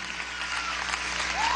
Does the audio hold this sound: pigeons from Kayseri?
no